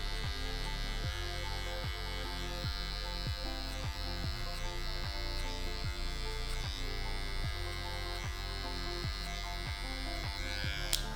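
Electric hair clipper buzzing steadily near the ear during a skin taper mullet cut, a constant close hum with a regular series of soft ticking strokes as it works through hair, no talking.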